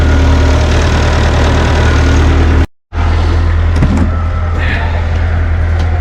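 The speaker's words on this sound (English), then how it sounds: "See if it'll start here. Oh yeah. Just let that warm up while we do some feeding." An old farm vehicle's engine idles steadily as it warms up on a cold, muddy morning near freezing, a low constant rumble broken by a brief dropout midway, with faint clatter over the top.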